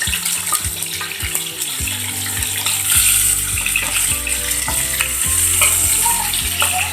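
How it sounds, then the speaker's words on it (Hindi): Chicken pieces frying in a pan for kabsa, with a loud, constant sizzle and hiss, broken by repeated clattering knocks of a utensil turning the pieces. "अब ये चिकन जो हमने निकाल लिया था पहले, अब हम इसको रोस्ट करेंगे इसके में ताकि ये एक साइड से सुरख हो जाए।"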